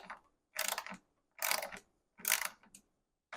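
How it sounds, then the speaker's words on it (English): Ratchet tightening a bolt, three bursts of rapid clicking ratchet strokes separated by short pauses, close and fairly crisp. "And then you want to use your ratchet to do it down."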